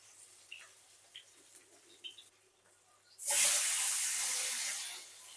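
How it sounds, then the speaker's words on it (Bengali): Sea fish laid into hot oil in a wok burst into a loud sudden sizzle that settles into a steady frying hiss, after a few quiet clinks of kitchen utensils. "কড়াইতে আমি তেল দিয়ে দিয়েছি, তেলটা গরম হয়ে গেছে। এখন মাছগুলো ভেজে নেব।"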